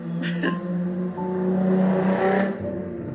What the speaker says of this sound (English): that's just the loudest fucking car you've ever heard in your goddamn life